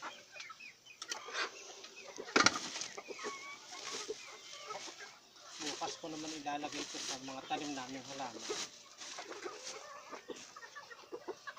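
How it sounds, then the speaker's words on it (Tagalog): Farmyard chickens clucking and squawking excitedly at close range, scattered throughout with a brief flurry of flapping, while someone speaks over them in a backyard where goat dung is being prepared for compost. "Excited yung mga manok eh."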